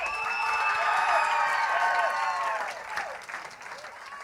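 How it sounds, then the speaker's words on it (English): A large audience at a high school graduation ceremony claps and cheers loudly, with whoops over the applause, which tapers slightly toward the end. "As you can see from the applause, Gabe is well liked by both his peers and hi"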